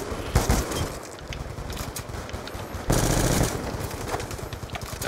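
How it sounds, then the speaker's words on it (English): Light machine gun firing in Black Ops 2: loud, sustained rapid bursts of automatic gunfire with brief gaps, close and dense, with no talking. "LMGs."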